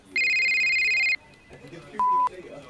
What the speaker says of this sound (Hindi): उसका फोन बज उठा